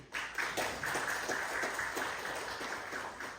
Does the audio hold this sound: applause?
yes